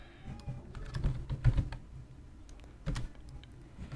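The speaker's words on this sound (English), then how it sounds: "Now we are going to type the name of this folder." Typing on a computer keyboard at a command prompt, scattered irregular key clicks with a few louder presses, close and quiet, no talking.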